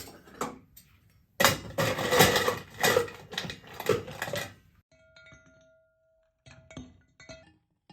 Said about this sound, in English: We're going to fill that with ice.